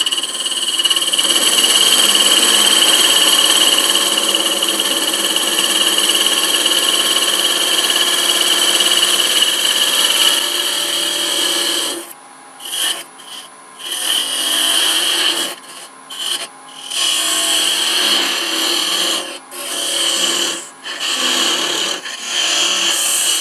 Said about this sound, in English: I'm going to take a peeling cut and bring it down some